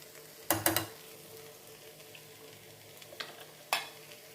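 A spoon stirs drumstick (moringa pod) fry in a pan, giving a few brief scraping, sizzling bursts near the start and two more later against a quiet kitchen background.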